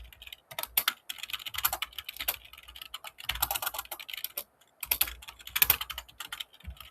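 Code being typed on a computer keyboard: quiet, close key clatter in uneven bursts separated by short pauses.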